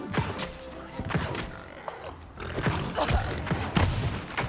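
Fireball fire explosions from combat in the video game New World: Aeternum, a dense run of booming thuds and crackling bursts repeating irregularly at close range, with a busy layered game soundscape throughout.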